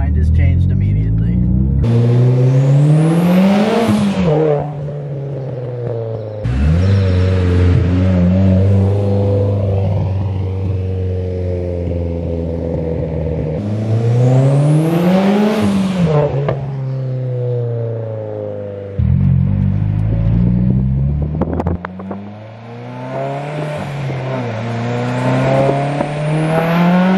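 A 400 WHP Mitsubishi Lancer Evo X accelerating hard, its engine climbing in repeated loud revving pulls with sharp drops between gear changes, close and sustained throughout.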